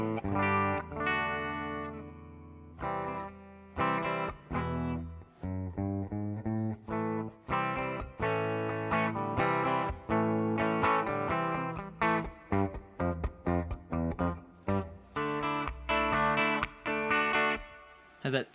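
Clean, twangy electric guitar played through an FM3 amp modeler with no distortion, a steady run of plucked notes and chords with a bright, snappy attack and no talking.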